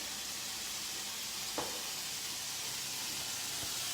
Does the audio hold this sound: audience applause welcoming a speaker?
no